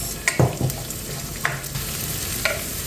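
Garlic and onion fry in a pan for a limpet dish, a steady sizzle broken by a few sharp clinks and scrapes from stirring, close up and without speech.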